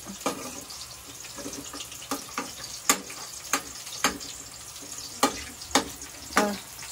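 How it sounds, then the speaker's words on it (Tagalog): Garlic frying in a home kitchen pan, a continuous sizzle punctuated by a dozen sharp spatula clacks and scrapes at uneven intervals, fairly close. "Hintayin mong mag-brown yung bawang."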